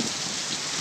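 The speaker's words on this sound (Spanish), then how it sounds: "Está lloviendo re lindo" Heavy rain falls in a neighbourhood during a flood, hissing as a dense, steady wash close by with nothing else heard.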